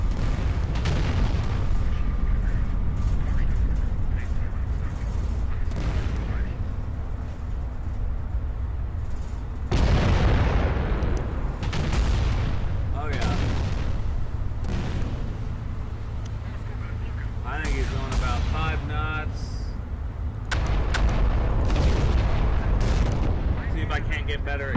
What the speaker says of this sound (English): the secondaries are still firing on their own